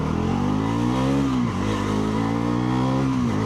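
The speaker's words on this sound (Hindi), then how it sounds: "नई NS का फर्स्ट गियर लगाते हैं और चेकआउट करते हैं पावर।" A Bajaj Pulsar NS400z motorcycle accelerates hard in first gear, its engine note climbing in a loud, close rising drone, dipping briefly at a shift point and then climbing again.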